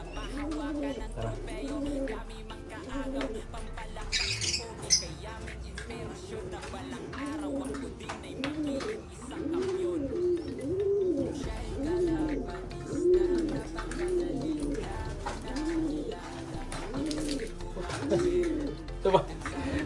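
Domestic pigeon giving repeated soft, throaty coos close by while being hand-fed with a syringe, the rolling calls recurring throughout under occasional voices in Tagalog.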